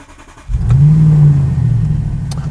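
A 2025 Bentley Bentayga Speed engine is revved hard from idle, rising into a loud, sustained throaty roar that then eases back to a lower drone, heard close with no talking.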